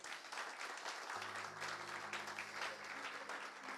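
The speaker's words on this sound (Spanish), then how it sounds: "¿Cuántos le dan un aplauso al Señor?" Sustained applause from a church congregation during an evangelist's sermon, steady and dense throughout, joined partway by a low sustained tone like an organ or keyboard chord.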